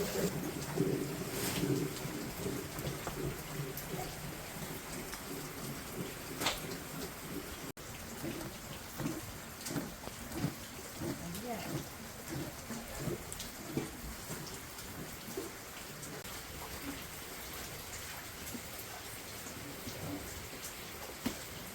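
Steady rain patters throughout, a dense wash of drops on surfaces with a few louder splashes near the start, continuous and fairly close.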